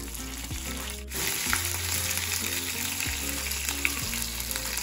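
Seeds sizzle and crackle steadily in hot oil in a pan, a continuous close frying hiss with occasional louder pops and a faint stir, no voices.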